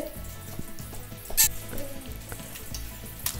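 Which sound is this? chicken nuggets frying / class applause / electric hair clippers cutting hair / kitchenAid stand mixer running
chicken nuggets frying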